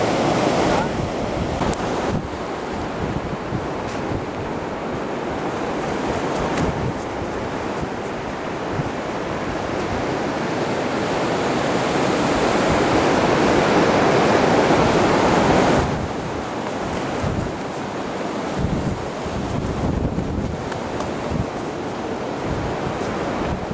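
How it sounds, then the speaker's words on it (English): Wind buffeting the microphone on a beach while flying an HQ Toxic kite, heard as a loud continuous rush over surf noise that swells in the middle and then eases, with no clear talk. "We got about 3 mile an hour wind."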